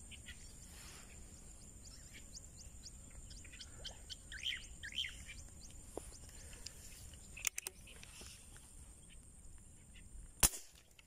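Outdoors while fishing for tilapia, an airgun fires two sharp, sudden cracks late on, over a steady bed of chirping birds and insects.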